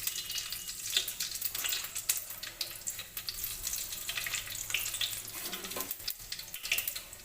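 A dried chilli and five-spice mix fries in oil in a kadai: a continuous close crackling sizzle with watery hiss, steady throughout and no voices.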